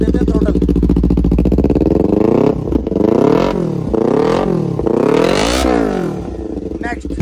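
A Kawasaki Ninja 400 with an Austin Racing full-system exhaust, heard close up as a loud idle, then several sharp throttle blips that rise and fall in pitch, with a voice underneath.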